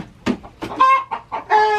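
Backyard coop hens cluck and squawk up close in quick, agitated bursts, a few loud calls rising into short crowing-like notes.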